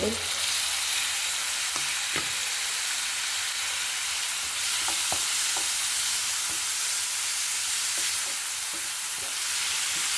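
Tomato and curry leaves drop into a sizzling sardine roast, giving a loud, constant hiss of hot oil with a few faint clinks from stirring throughout.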